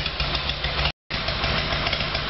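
An Evolution Sportster V-twin, after a carburetor fix, runs steadily from a cold start with choke, a dense, loud, uneven engine roar that cuts out for a split second midway before resuming.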